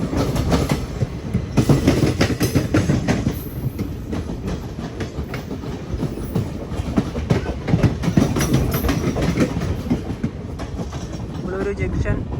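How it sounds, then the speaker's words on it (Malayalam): Onboard the Vijayapura–Mangaluru Central special train, wheels clatter and rumble steadily over the track, with rhythmic clickety-clack beats and a constant loud carriage roar heard from inside throughout. "Vijayapura Mangaluru central special train."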